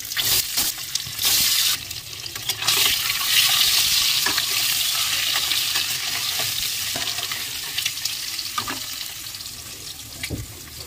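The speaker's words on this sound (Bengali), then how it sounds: "ডিমটা এবারে লাল লাল করে ভেজে নেব।" Eggs frying in hot oil, a close, bright sizzle with a spatula scraping and stirring through it in irregular knocks, no talk.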